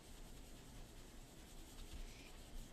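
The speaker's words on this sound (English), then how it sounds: "I'm gonna again burnish off with the cloth." A cloth is rubbed steadily across a stamped card to burnish it, giving a soft, continuous scuffing texture that stays faint and close, with no talking.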